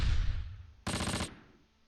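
Gunfire in the Close Combat World War II strategy game, a sharp burst of rapid machine-gun shots lasting under half a second, following a fading rumble, with no talking.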